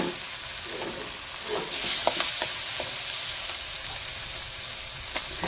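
Oyster mushrooms stir-fry in a pan on a home cooker, a loud continuous sizzle and hiss broken by scattered crackles and quick stirring scrapes.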